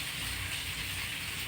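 Neem flowers frying in hot oil for rasam give a steady, continuous sizzling hiss that holds evenly throughout, close and moderately loud, with no talking.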